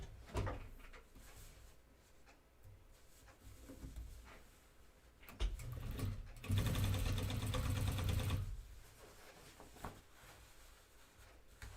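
A sewing machine top stitches the openings on a pair of jeans in a single loud burst of a couple of seconds, between soft handling sounds and fabric shuffling in a quiet room.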